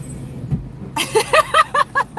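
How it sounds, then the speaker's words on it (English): A series of high, rhythmic squeaks from vehicle brakes, repeating about six times in quick succession over low road noise. "you hear that squeaky sound? That's them brakes"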